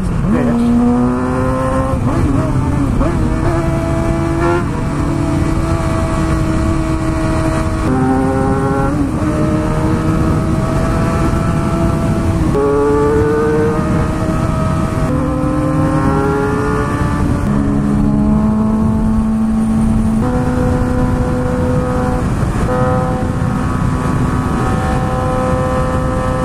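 Lamborghini engine racing and revving hard, with repeated rising gear-change sweeps over about half a minute, loud and close, a voice shouting now and then.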